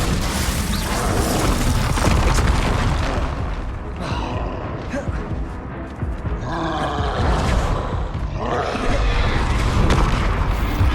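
Repeated booming spell blasts in the Hogwarts Legacy fantasy video game, dense and loud, crashing over busy combat sounds with shouted spell names in between.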